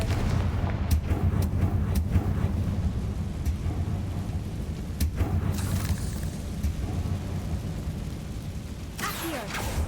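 Confringo fire spell blasts in the Hogwarts Legacy video game, a loud sustained barrage of booming, crackling impacts with sharp bursts scattered across the clip and a whooshing flare near the end.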